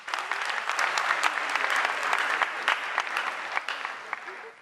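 Audience at a senior high school renewable energy challenge applauding the participating schools, steady dense clapping from a sizeable crowd with sharp individual claps standing out, sustained throughout before tapering at the end.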